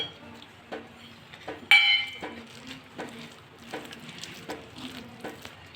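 A spoon clinks against a bowl in a steady run of light taps while lentil and flattened rice vada batter is mixed, with a brief louder clatter near the start; no talking.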